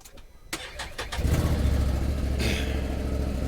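A 2021 Can-Am Commander engine catching after a few clicks, then settling into a steady, low, fairly quiet idle rumble heard close up.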